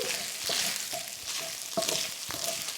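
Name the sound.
stirring ingredients in a frying pan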